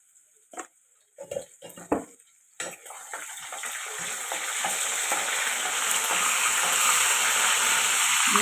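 Oil sizzles and frying hisses steadily in a pan as ingredients for vangibath are stirred, starting with a few sharp clinks and scrapes before the continuous sizzle builds and holds loud and close.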